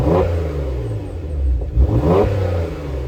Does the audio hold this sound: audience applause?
no